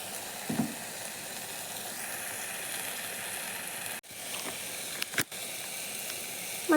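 Spices sizzle while being sautéed in oil for rasam, a steady, close frying hiss that runs throughout, broken by a few brief clicks and knocks.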